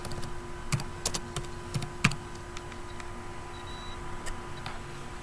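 Quick, irregular key taps on an HP netbook keyboard, light clicks close by against a steady faint hum, with no talking.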